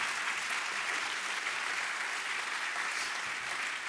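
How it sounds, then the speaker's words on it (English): Large audience at an MBA and EMBA graduation ceremony applauding, a dense, even roar of clapping sustained throughout at a steady level. "I like that applause"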